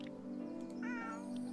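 A cat in the cozy puzzle game Pan'orama gives a single clear meow over a steady low hum of game ambience.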